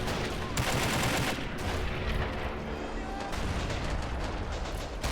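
Dense artillery and gunfire roar through a tank battle in a Red Army assault war game, with continuous overlapping blasts and rattling shots forming a loud, unbroken wall of combat noise.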